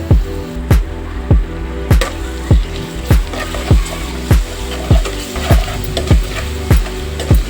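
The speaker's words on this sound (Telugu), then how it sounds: "తర్వాత వన్ స్పూన్ అల్లం పేస్ట్ వేసుకొని కలుపుకోవాలి" Onions frying with turmeric, salt and ginger paste in a pan give off a steady sizzle, broken by regular, close spoon strokes scraping through the mixture at an even rhythm of roughly two per second.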